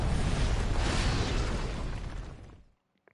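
A Hellfire fire attack in Final Fantasy XVI bursts with a loud, roaring blast that holds for about two seconds, then thins out and cuts off abruptly into near silence, with a faint click or two after it.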